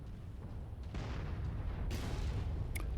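Video game artillery rumbles through a dense, booming background of distant explosions and impacts, with a couple of sharper bursts standing out against the constant roar.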